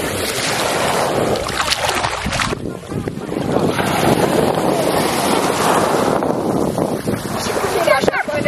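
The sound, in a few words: motorboat ride on water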